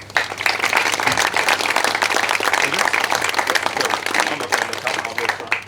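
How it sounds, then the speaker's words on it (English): Guests at a Santorini wedding give the parents a round of applause, dense hand clapping from a sizeable crowd, continuous and close for several seconds with a few voices mixed in. "So please, if I may, a round of applause for the parents again."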